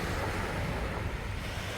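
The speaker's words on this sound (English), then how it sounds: "So this is the beach off of Lake Michigan here." Waves wash steadily onto a Lake Michigan beach near Milwaukee, a continuous broadband surf roar with wind buffeting the microphone and no distinct breaks between swells.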